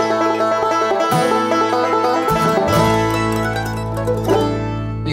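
Compressed banjo playing in a band practice, plucked notes layered with other instruments, loud and dense throughout with shifting chords and no talking.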